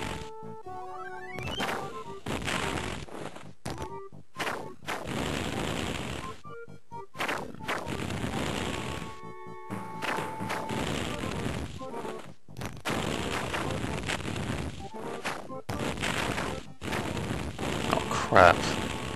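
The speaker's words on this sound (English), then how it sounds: "Snicker bars again. That for some reason explode." Snickers bars exploding in the Gargoyles video game: repeated loud bursts and crashing blasts in a dense, chaotic stream, broken by brief gaps, with tonal game sound effects mixed in.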